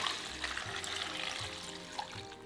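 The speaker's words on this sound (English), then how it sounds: "In a large mixing bowl, place in the napa cabbage and pour in the salt water." Salt water splashes and pours steadily over napa cabbage in a large mixing bowl, a continuous wet rush with a few soft bumps, close by and with no talking.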